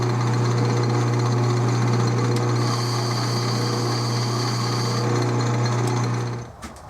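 A metal lathe takes a thread-cutting spring pass on an airsoft airgun adapter, a loud continuous humming drone with a steady machining buzz that fades out near the end.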